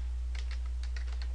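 Quick clicks of a computer keyboard being typed on, close and clear over a steady low electrical hum, lasting just over a second.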